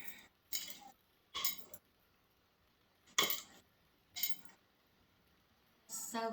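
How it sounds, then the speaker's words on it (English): A utensil stirs beef stroganoff made with home-canned caramelized onions in a pot, giving five or six short bursts of scraping and clinking against the metal, separated by quiet pauses. "So let me stir this up."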